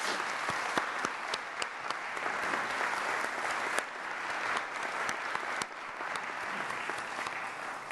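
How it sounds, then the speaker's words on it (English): A commencement audience at a class of 2016 graduation breaks into sustained applause, a thick, even roar of many clapping hands with occasional sharper individual claps, no voices over it. "Let's take a moment to give them a round of applause and thanks."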